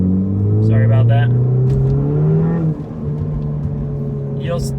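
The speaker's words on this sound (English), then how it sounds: "boost noise coming out the back end, which is something that I really love to hear." A 2018 Ford Fiesta ST's turbocharged engine revs hard under acceleration, a steady rising drone with a burst of whooshing turbo noise, close and loud, with a voice talking over it.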